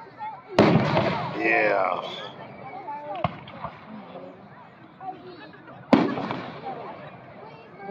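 Fireworks fire rapidly over a river on the Fourth of July, with loud booms and crackling bursts in quick succession as people talk and react nearby.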